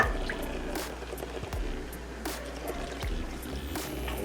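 Cupfuls of water go into a cooking pot in separate pours, each a short splashing gush with drips between, fairly soft and with no talk over it.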